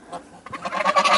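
Several geese in a farmyard give a run of soft, nasal honking calls that rise and grow busier toward the end, close by and fairly loud, with no talk over them.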